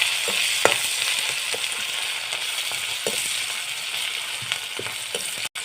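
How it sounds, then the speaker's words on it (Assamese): Chopped onion and green chilies frying in a pan, a loud steady sizzle with periodic stirring scrapes and taps close by, ending in a brief knock. "এতিয়া প্ৰথম পিঁয়াজ আৰু জলকীয়াৰ কুটাখিনি দি লৈছোঁ"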